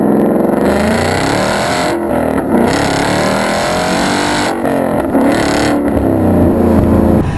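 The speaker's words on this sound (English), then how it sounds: "with this engine, with the high red line and stuff, I mean, you can just play with that power band" A loud, throaty V8 exhaust from a 2015 Ford Mustang GT with a Roush exhaust roars continuously as the engine revs up and down, close and powerful throughout.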